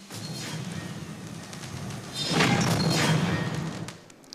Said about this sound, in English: The pyro is also sparking up, the fireworks.